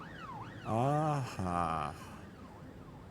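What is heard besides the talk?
police sirens in video game This Is the Police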